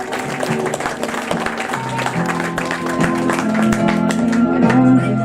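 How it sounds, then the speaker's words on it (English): An audience at a Sydney 40th-anniversary gathering for the television series Prisoner Cell Block H claps under loud, steady music, a busy patter of hands mixed in beneath the tune. "Let's give them a big round of applause."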